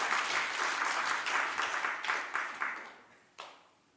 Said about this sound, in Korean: 왜 박수 안 쳐줘?